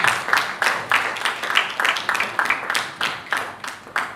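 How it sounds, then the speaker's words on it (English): An audience claps at an International Women's Day event as a speaker comes on stage, a steady run of sharp, fairly close claps in a regular rhythm with no talk over it. "Please let's put our hands together for her to come on stage."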